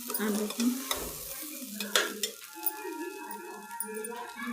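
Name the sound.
moong dal being stirred and frying in a pan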